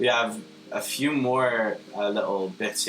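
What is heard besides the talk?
None of the usual background noises is heard.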